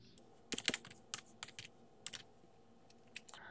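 Terminal commands are typed on a computer keyboard, with quiet, close, irregular clusters of key clicks and short pauses between bursts.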